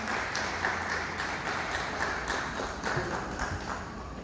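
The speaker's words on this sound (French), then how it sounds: "Sous vos applaudissements." Applause at a graduation ceremony as graduates are called by name, a fairly distant and steady wash of many hands clapping together that holds the whole time, with no voices over it.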